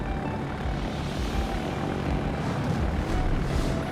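Fighter aircraft engines roar steadily in the Midway video game, a dense, constant broadband drone that holds at an even loudness for the whole span with no voices.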